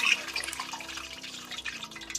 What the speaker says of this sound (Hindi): घी हमारा अच्छे से गर्म हो चुका है, अब हम इसमें पीस डालेंगे।